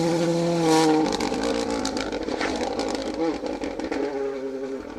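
A Ford Fiesta Rally 2 rally car on a stage of the 2023 Carryduff Forklift Down Rally, flying over jumps: a loud, close engine snarls and revs, its pitch dropping sharply after a second before rising again, with crowd noise underneath.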